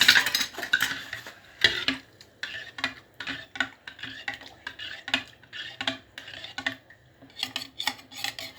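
Yeast and milk for doughnut dough stirred in a bowl, a utensil scraping and clinking against the sides in quick, steady strokes with short pauses, close and fairly loud.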